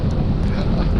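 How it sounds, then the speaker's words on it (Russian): A strong south-westerly wind with snow on a cold October day roars and buffets the microphone in a loud, steady, dense rush for one second. "Ветер, ветрище, он хоть и южный, юго-запад даже"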